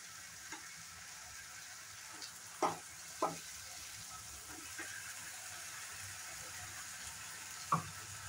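Ginger, garlic and green chili paste frying with browned onions in a pan, a quiet steady sizzle broken by a few sharp spatters and stirring clinks.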